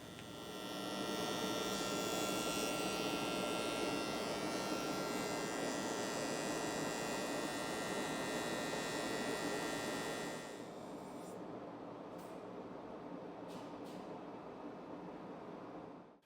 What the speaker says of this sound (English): we'll turn on our dust collector and get that fed in